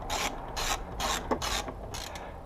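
A hand ratchet loosens the fairing bolts on a Honda NT700 motorcycle in about five short, close clicking bursts separated by brief pauses.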